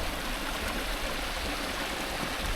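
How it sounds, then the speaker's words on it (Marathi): Steady stream of spring water rushing and splashing at a village bathing spot in Konkan, a continuous close broadband wash with no pauses. "तो तिचा झरा आहे हा"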